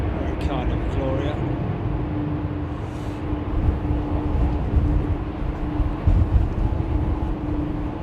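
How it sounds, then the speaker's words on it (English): Boeing 777 jet engines at London Heathrow hum as the aircraft lines up on the runway, a steady distant drone with a sustained tonal whine, while someone talks over it throughout. "Now listen to these engines on this 777 that's just lining up now."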